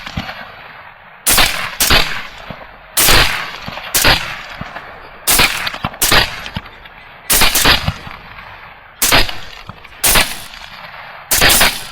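Rifle shots fired while hunting hogs at night ring out as loud, sharp single cracks and quick pairs, roughly a dozen spread across the stretch with short gaps between, close and dominant over a quiet background.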